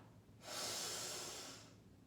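A single slow inhale through the right nostril during alternate nostril breathing, a soft airy hiss rising and lasting over a second, close and quiet.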